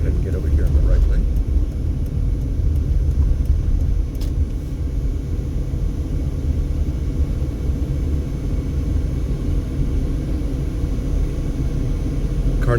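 A car cruising southbound on Boulder Highway in Henderson, Nevada, at sunset gives off a steady low road rumble and engine drone that holds evenly throughout, with a faint brief click near the middle.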